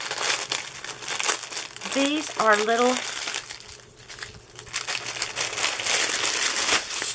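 Plastic packaging for cross stitch accessories crinkles and rustles close by as it is handled and opened, with a person talking over the crackling throughout.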